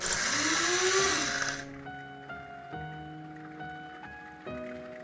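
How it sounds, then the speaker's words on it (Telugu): A mixer grinder grinding rock salt whirs loudly for over a second, then cuts off, leaving a few faint clinks and rattles as the motor winds down. "ఇప్పుడు కళ్ళుప్పును కూడా మిక్సీ పట్టి పెట్టుకోవాలి."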